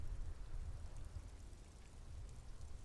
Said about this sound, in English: droplets of rain fall on the white on blue police livery of the motor